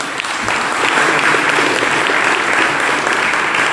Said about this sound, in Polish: Wielkie brawa raz jeszcze!